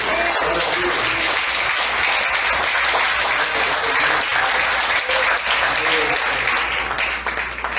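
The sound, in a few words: congregation applause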